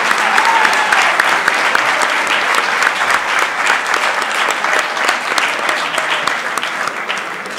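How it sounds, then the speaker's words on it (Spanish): An audience at a university campus festival gala in Alcoi claps loudly and steadily, sustained dense applause from a large crowd close by that tapers slightly toward the end. "despidamos con un fuerte aplauso a nuestra pregonera 2023, Lucía Agudalbesa."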